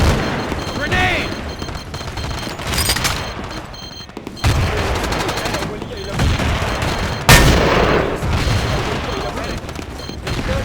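Frag grenade blasts and heavy gunfire in a Battlefield 2 online match, with sharp booms near 4.4 and 7.3 seconds over continuous automatic rifle fire, and shouting voices mixed in.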